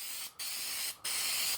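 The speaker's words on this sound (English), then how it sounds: "apply the Super 77 spray adhesive to the back of my letters." Three short bursts of Super 77 aerosol spray adhesive hiss close by as it is sprayed onto the back of laser-cut letters, each blast loud and steady, separated by brief gaps.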